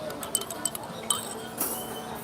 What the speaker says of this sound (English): Drop it in my juice. Give it a quick